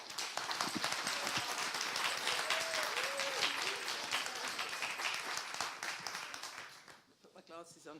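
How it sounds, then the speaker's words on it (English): A conference audience at a summit applauds a speaker's introduction with steady, full clapping that carries on for several seconds before fading, followed by a voice. "So let's have another round of applause"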